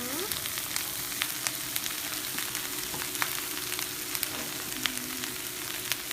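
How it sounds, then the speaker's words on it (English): Brussels sprouts and chopped bacon sautéing in a pan: a steady, close sizzle with scattered pops and crackles, no voices. "We're going to saute these for about 4 or so minutes just to get them nice and a little bit soft"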